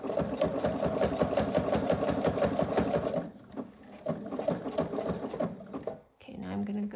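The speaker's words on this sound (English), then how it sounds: "I'm going to stop sewing here. So I need to back tack really well." Sewing machine stitching through jelly roll fabric strips for a gift basket, a fast close mechanical chatter that runs steadily, pauses, then resumes in short bursts as it reverses to back tack, with brief quiet speech near the end.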